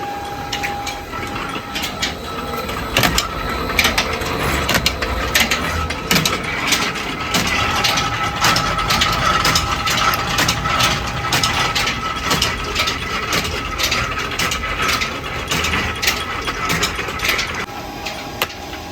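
Solar-powered atta chakki flour mill running with an ABB inverter, a loud continuous mechanical grinding roar with a steady tone and dense rapid clattering throughout, no talk.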